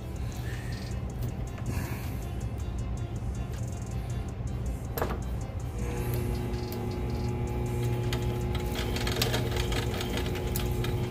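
Fishing line being spooled onto an Avet reel: a steady mechanical whirring and clicking drone that continues throughout, close up, with a sharper rattle midway and a slightly rising pitch later, no talking.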